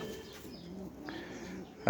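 A newly caught, thin female pigeon held in the hand gives soft, low, repeated coos, close and quiet, with a brief louder rustle at the very end.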